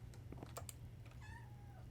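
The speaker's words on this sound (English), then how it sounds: "if my kitty is calling me, basically all that means is that she wants my attention now" Pet cat meowing for attention indoors, a single drawn-out falling meow near the end, faint and close, preceded by soft clicks of keyboard typing over a low steady hum.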